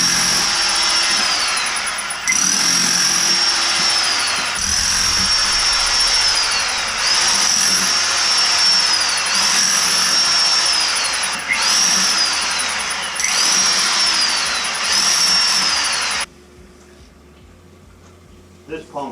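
A Hilti hammer drill pounds a hole through a wall for a sump pump discharge pipe, loud and close in repeated long bursts with short pauses, then stopping near the end.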